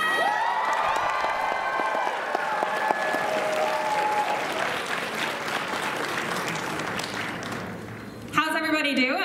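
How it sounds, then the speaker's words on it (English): Audience applause and some cheering for a contestant at the AMKE 2022 cosplay contest, steady clapping from a crowd in a hall for about eight seconds, with voices over it early on and a loud voice breaking in at the end. "applause for Tilly, please?"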